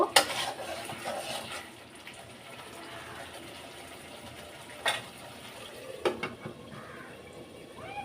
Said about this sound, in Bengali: আর খুব সুন্দর করে নাড়াচাড়া করে দিতে হবে আমি আরও কিছুক্ষণ কষিয়ে নিব